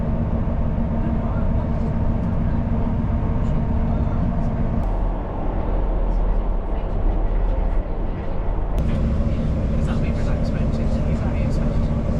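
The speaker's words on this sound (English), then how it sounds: "standing here filming the train arriving" A train rumbles steadily into a station, a continuous heavy low roar with shifting engine tones and some speech over it.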